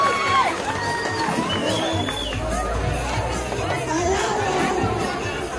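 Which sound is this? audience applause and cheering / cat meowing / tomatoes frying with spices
audience applause and cheering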